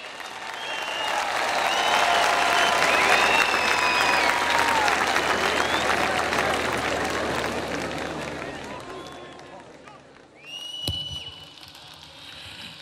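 Sustained audience applause fills a political party's anniversary solidarity concert hall, swelling loud and steady for about ten seconds before thinning, with a brief louder burst near the end.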